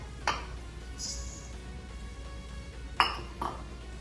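Oatmeal and coconut go into a mixing bowl, giving two sharp clinks of utensil against bowl about three seconds apart, each with a faint ringing tail over a quiet background.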